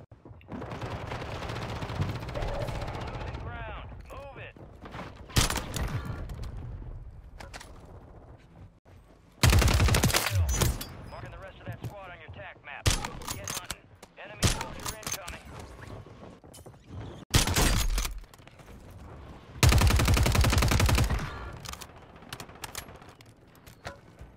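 Kar98k bolt-action rifle fire in a first-person shooter game, with several loud, sharp bursts of shots spaced across the stretch, the last ones long and dense. Quieter game sounds fill the gaps, and someone talks over parts of it.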